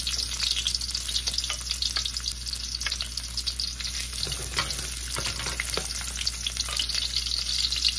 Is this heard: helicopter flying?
no